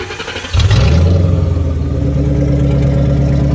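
A Ford F100 pickup on a Crown Victoria frame cranks briefly, then its engine catches at about half a second and settles into a loud, steady, close-up idle.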